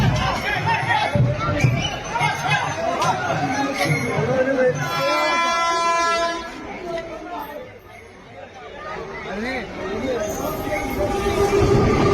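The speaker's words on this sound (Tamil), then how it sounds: "அந்த பகுதியை பயணிகள் ரயில் கடந்து சென்றது" Passenger train running along a railway track on a line where a Guruvayur temple elephant had just crossed, a steady rumbling roll with a brief tonal horn-like wail midway, heard under continuous talk.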